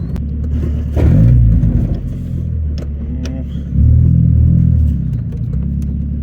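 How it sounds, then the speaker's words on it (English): A Mazda Miata on Flyin Miata VMaxx coilovers is driven over bumps. Steady cabin road rumble is broken by two heavier thumping surges as the car hits the bumps, recorded from close inside. "I don't think I've ever driven and purposefully tried to hit every bump until right now."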